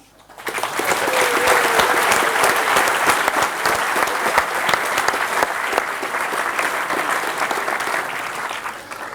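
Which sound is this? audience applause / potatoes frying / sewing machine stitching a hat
audience applause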